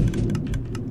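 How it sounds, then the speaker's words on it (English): Minecraft thunder rolls as a loud, sustained low rumble, with a few faint ticking clicks layered over it and no voices. "Oh my goodness, that was some crazy thunder."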